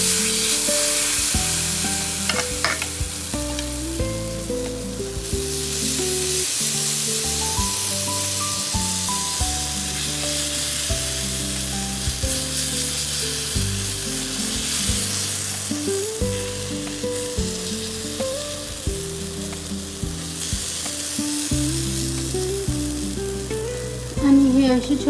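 Chila batter sizzles steadily in a hot pan, a continuous frying hiss running underneath louder background music with stepped melodic notes for the whole stretch.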